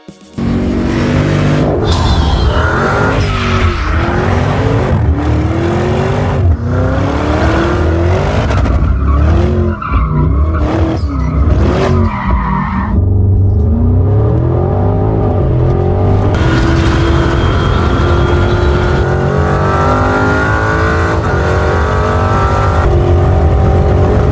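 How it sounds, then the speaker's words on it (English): A Porsche Cayenne Turbo GT with a 4-liter twin-turbo V8 roars in Need for Speed, loud and close, revving up through repeated gear changes with tire squeal along the way, then holding a sustained high-speed drone. "Cayenne Turbo GT is powered by a 4-liter twin-turbo V8 engine producing 631 horsepower"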